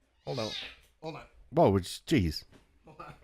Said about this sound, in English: That was our cat.